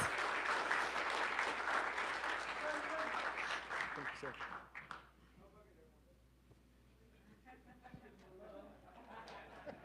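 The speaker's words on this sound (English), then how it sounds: "every one of you need to take just a clap for yourself" An audience claps steadily at a recovery program celebration, the applause loud for several seconds before thinning out, with voices talking over it as it fades.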